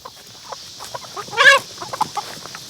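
Several chickens cluck and chatter close by at feeding time, with short scattered clucks and one louder squawking call rising in the middle.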